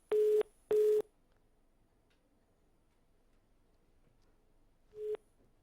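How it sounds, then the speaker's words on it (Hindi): After a call disconnects, a telephone busy tone sounds as two steady beeps in quick succession, then near-silence, then a third beep starting around five seconds, each tone clean and evenly pitched. "लगता है फोन डिस्कनेक्ट हो गया है"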